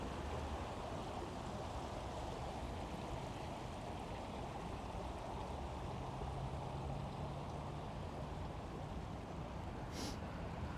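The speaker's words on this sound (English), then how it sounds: "water going down the stairs." Steady, low rushing wash of water running down stairs inside a Tokyo skyscraper, a continuous even flow with a brief faint high tick near the end and no speech.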